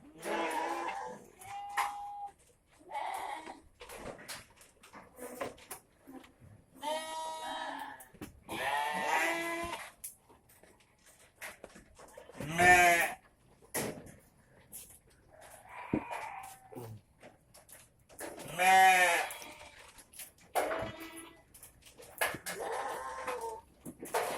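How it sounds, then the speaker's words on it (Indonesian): Goats bleating repeatedly at close range on a small farm with three nannies and their kids, restless calls coming in bursts with short gaps, no talking over them. "Nah, kambingnya mulai nggak sabar ya."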